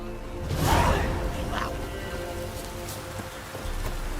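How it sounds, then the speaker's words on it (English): Steady rain hisses continuously in the Witcher 3: Wild Hunt video game, with a soft whoosh swelling early on and fairly even loudness after. "Looks like rain."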